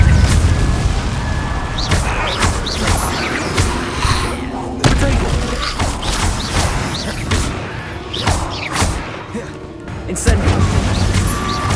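Repeated Incendio fire spells cast in combat in Hogwarts Legacy, in the Undercroft: a string of sharp, loud bursts and crackling blasts at irregular intervals over busy battle noise.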